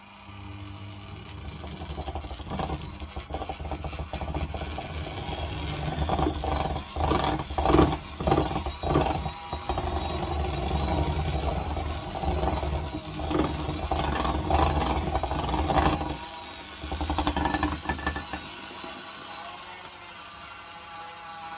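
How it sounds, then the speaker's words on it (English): An electric whisk beats Dundee cake batter in a bowl, a loud, close motor whir that swells and dips as it works, with rattling against the bowl and no talking. "let's go back in with the whisk."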